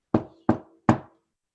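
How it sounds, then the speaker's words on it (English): Three evenly spaced, solid knocks on wood, close and crisp, each followed by a short decay, with silence between and after. "His thoughts were interrupted, though, by a consistent knocking noise."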